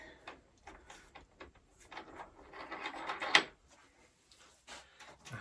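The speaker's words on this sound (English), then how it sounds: "And again, washer and a wing nut." A washer and wing nut are fitted onto a bolt on a wooden model railway baseboard, giving faint close-up small clicks, rubs and taps in an irregular scatter with one sharper tick.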